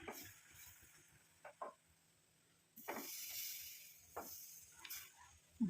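A thick herbal hair dye mixture with musambaram added is stirred in a pan on the stove, giving soft scraping swishes and brief bubbling sizzles in irregular bursts, fairly quiet throughout.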